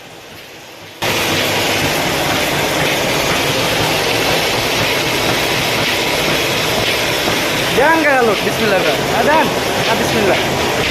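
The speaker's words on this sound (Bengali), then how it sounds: "সম্মানিত দর্শক দেখতে পাচ্ছেন ফ্রি মোটর মাত্র তেরো এম্পের খাচ্ছে" Rewound three-phase 30 hp ship motor running free with no load, a loud, steady, broad mechanical roar that starts abruptly after a second and holds constant, with a brief tonal whine rising and falling near the end.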